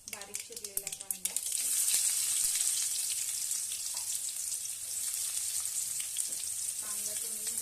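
Chopped onion dropped into hot oil with spluttering cumin and mustard seeds for Maharashtrian potato bhaji, with a few clinks followed by a loud, steady, close sizzle and occasional utensil taps.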